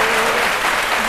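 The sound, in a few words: studio audience applauding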